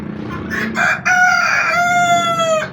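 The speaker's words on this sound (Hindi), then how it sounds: "तो चंदा चकोरों ने भी शोर मचाया हुआ है सारे का सारा।" Chukar partridges and Golden Misri chickens call loudly and close by in a poultry enclosure. One bird gives a long, crowing call after some shorter clucking notes.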